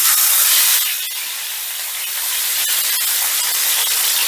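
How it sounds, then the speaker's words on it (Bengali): Steady bright hissing sizzle of rohu fish tail pieces frying in hot oil in a pan, close and continuous, with a few crackling pops, no voices. "এবারে আমি মাছটা ভেজে নিচ্ছি"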